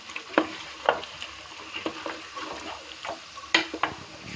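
Chicken masala with ground coconut and dry fruits is stirred and fried in a pan: a low sizzle under repeated sharp spoon scrapes and knocks at an irregular pace, close by, without speech.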